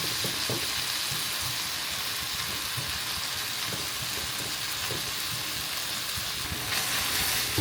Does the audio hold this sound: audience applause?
no